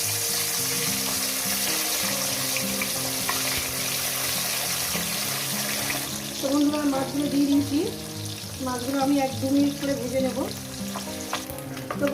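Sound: fish frying in hot oil

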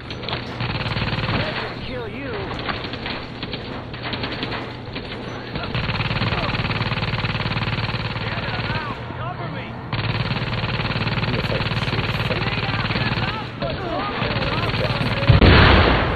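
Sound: gunfire in The Division video game

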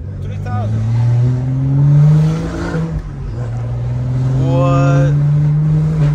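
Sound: BMW M340i car engine revving

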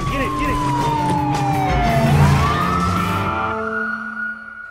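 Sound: police sirens

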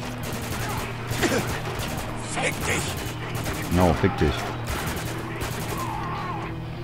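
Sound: gunfire in the video game Spec Ops: The Line

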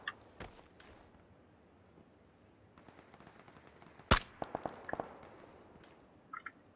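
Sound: gunfire in a video game

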